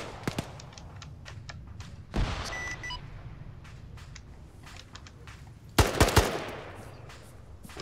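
Gunfire in Operation Flashpoint: scattered distant single shots crackle throughout, broken by two louder close bursts of rapid automatic fire, with sharp echoing reports over a quiet outdoor battlefield.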